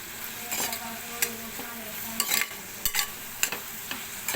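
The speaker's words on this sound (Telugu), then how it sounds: "ఇందులోపల బాండి తీసుకొని ఉల్లిపాయలు, పచ్చిమిరపకాయలు ఇట్లా కొంచెం గోల్డెన్ బ్రౌన్ వచ్చే వరకు వేయించండి" Onions and green chillies fry in a kadai with a soft steady sizzle, broken by repeated sharp scrapes and clacks of a spoon stirring against the metal pan, close and fairly quiet.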